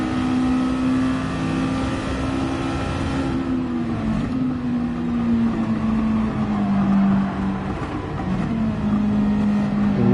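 A Mazda MX5 with a swapped rotary engine races in Gran Turismo 7, its loud, buzzing engine note holding high and wavering through gear changes and throttle lifts, continuous and close with no talk.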